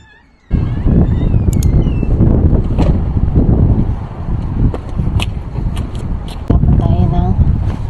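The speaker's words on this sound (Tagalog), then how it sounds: "Sobrang hangin naman." Strong wind gusts outdoors in Canada while taking out the trash, a loud continuous blustery roar battering the microphone after a quiet start, with a voice speaking over it.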